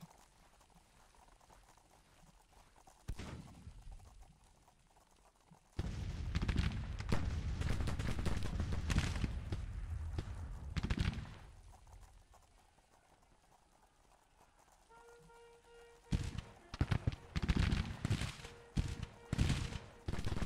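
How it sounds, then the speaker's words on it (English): Infantry gunfire in the Civil War strategy game Grand Tactician: The Civil War comes as dense crackling musket volleys in two long stretches, with quieter rumbling between them. "There goes my grunts opening fire at the sharps."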